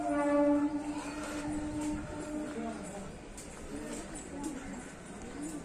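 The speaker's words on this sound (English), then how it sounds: "It is a special train from Pondicherry to Kachiguda." A special passenger train from Pondicherry pulls into platform 4 at Kachiguda station, Hyderabad, with a steady mechanical rumble and a sustained horn-like tone early on, under busy station crowd chatter and voices.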